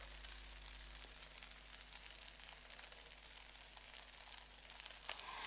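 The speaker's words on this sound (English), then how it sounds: "Listen to the sizzle." Steady, close sizzling and crackling of spinach fried rice in a pan, a continuous hiss with small pops throughout and no talking.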